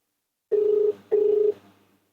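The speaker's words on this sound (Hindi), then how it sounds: "घंटी जा रहा है, देखेंगे, इनसे बात करेंगे" Telephone ringback tone on an outgoing call, two steady electronic rings with a short gap between them, clear and alone with no talk.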